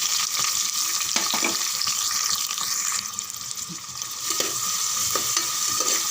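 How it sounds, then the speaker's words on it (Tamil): Onions and green chillies fry in hot oil while being stirred, a steady close sizzle running throughout with repeated scraping strokes of the spoon against the pan. "ஒரு மூணு நிமிஷம் பாதி அளவுக்கு வெங்காயம் வதங்கினா போதும்"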